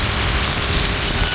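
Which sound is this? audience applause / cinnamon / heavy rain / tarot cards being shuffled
heavy rain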